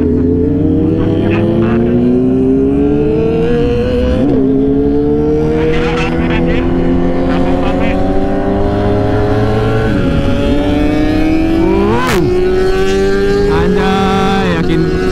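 Kawasaki ZX25R four-cylinder motorcycle engine revs high and rises steadily in pitch over several long pulls, with brief dips between them, loud and close, while people talk over it.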